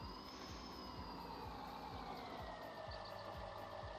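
A truck engine in Farming Simulator runs steadily with a low, rhythmic pulsing rumble and a faint whine on top, close and continuous throughout.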